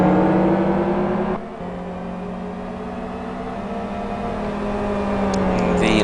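A lapped GT1 race car on track during a GT1 World Series race, a loud sustained engine drone that dips briefly, then holds a steady pitch and slowly swells again, with no talk.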